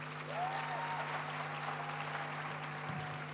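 An audience at a graduation ceremony gives a short burst of applause, a soft, diffuse wash of clapping heard at a distance over a steady electrical hum.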